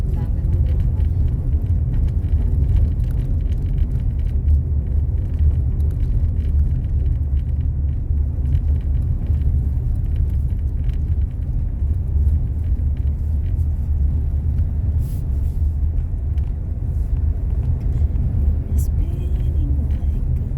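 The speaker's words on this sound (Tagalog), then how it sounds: "Lumaragas yung mga sasakyan." Steady low rumble of road traffic, with trucks and cars passing close by, runs continuously and fairly loud without clear breaks between individual vehicles.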